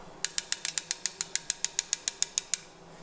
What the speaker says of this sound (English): when I start to push it together, it starts to click.